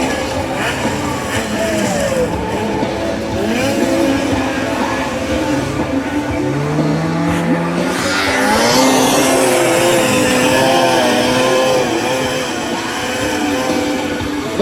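A Polaris 500 racing snowmobile pulls away at a competition in Taipalsaari, its engine whine rising and holding at a loud, continuous pitch, with crowd and race noise mixed in.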